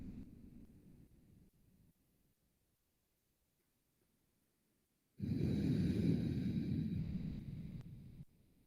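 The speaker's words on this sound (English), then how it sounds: "Breathing all the way down into our hips." Deep breathing while holding a yoga balance pose: a quiet stretch of faint breath gives way to one long, loud, close exhale that rushes on for about three seconds before fading, with no talking.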